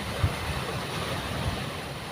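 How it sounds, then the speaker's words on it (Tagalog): Rough open sea with strong waves far out from shore, a continuous rushing roar of surf and wind noise with a couple of soft thumps. "Yung alon sa laot, oh."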